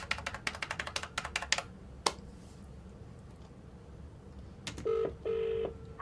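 A phone number is dialed as a quick run of short keypad taps followed by a pause, then two sustained ringback tones sound faintly over a quiet line with no voices.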